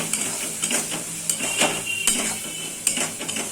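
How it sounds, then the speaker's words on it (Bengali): Fish with turmeric and salt being stirred in a pan, a sequence of sharp metallic clinks and scrapes of a utensil against the pan at an irregular pace, close and fairly loud over a faint background. "এবার এগুলোর মধ্যে আমি অ্যাড করব একটু হলুদ আর পরিমাণ মতো নুন দিয়ে আবারও একটু ভালো করে নেড়ে নেব।"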